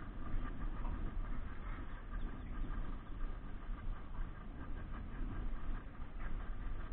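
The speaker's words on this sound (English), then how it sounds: "That boat loader doesn't sound like it's" A boat loader's engine runs at a waterside spot, giving a steady, muffled, low mechanical drone that stays even and moderately distant with no pauses.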